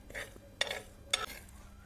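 Homemade spice mix for mango pickle being slowly dry-roasted and stirred in a pan, faint scraping with two sharp clinks of the spoon against the pan.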